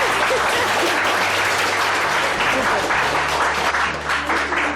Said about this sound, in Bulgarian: Подарете едни аплодисменти на госпожата